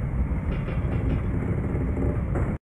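A freight train in Train Simulator 2021 rolls along at blue hour on the Sacramento Northern line, giving a steady, loud low rumble with faint rail clatter throughout that cuts off abruptly at the end.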